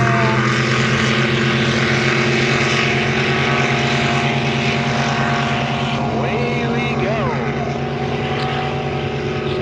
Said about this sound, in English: Sounds like somebody's got a bit of a sputter.